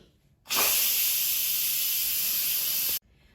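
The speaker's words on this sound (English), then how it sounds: "so let's quick release the steam" A loud, steady hiss of steam blasting out of an Instant Pot valve during quick release, starting abruptly and holding constant for about two and a half seconds before cutting off.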